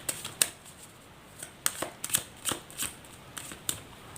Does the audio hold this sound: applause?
no